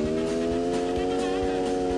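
Lamborghini engine in the Free Fire mobile game, a loud buzzing rasp with a strong harmonic whine and a rapid rhythmic pulse, steady and close for about two seconds.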